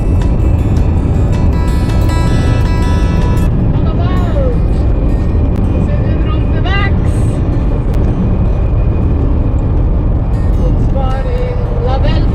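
Steady loud road noise from a camper van driving toward France, with engine hum and tyre roar throughout, while people talk over it.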